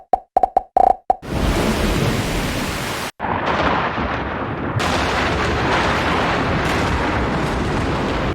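A few sharp cracks open, then a loud, sustained rumbling roar of thunder with heavy rain-like noise continuing, briefly dropping out before resuming.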